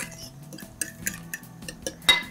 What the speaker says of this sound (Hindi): बहुत अच्छे से आप अपने अंडे को मिक्स कर लें।